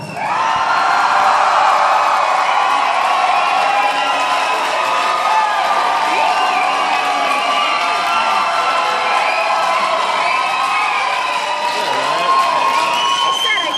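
A concert audience at a show keeps up a dense, continuous roar of cheering and shouting, loud and close throughout with no pauses.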